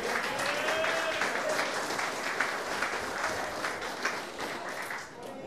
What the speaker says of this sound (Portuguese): Palmas, né?